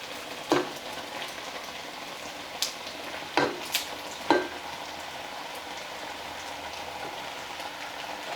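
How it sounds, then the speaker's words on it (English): Ground beef for keto chili drops into a hot pot and sizzles with a steady, fairly soft crackle, punctuated by a few sharper pops and clatters over about eight seconds. "I'm gonna go ahead and add my ground beef to it now"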